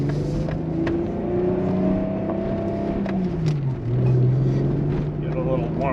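A built VW Corrado engine with a Schimmel-built head and 268 cams idles as it warms up, then its pitch rises and falls through a gentle rev and settles back into a steady hum. The engine sounds close and continuous.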